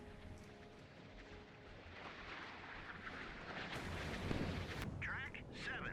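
A missile strikes its target, a MiG-17, in the naval combat game Sea Power during a Vietnam-era battle: a rumbling blast swells mid-clip over steady roaring battle noise, with a voice briefly heard near the end.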